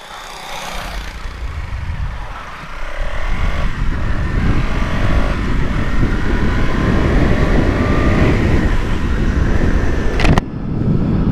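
A KTM Duke 200 BS6 motorcycle rides along and accelerates, its engine rising to a steady loud drone mixed with heavy wind rush, continuing without talk until a brief sharp click near the end.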